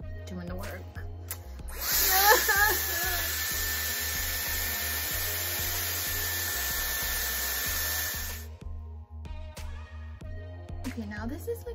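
A Dyson AirWrap hair styler blows steadily while drying hair, a loud high whine with airy rush lasting several seconds, and someone talks briefly before it starts and again after it cuts off.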